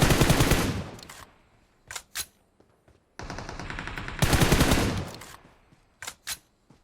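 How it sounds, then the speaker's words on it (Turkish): Gunfire in PUBG Mobile, with loud sustained bursts of automatic fire and short separate volleys in between, heard close with no talking. "Şuradan sıkan bir abi var"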